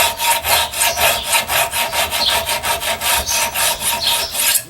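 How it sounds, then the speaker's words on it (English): A metal file rasps back and forth along a bushcraft knife blade clamped flat in a vise, steady rhythmic strokes about four per second, close and loud, with no talking. "So now all I gotta do is take my file in here, and I can see exactly what I'm doing."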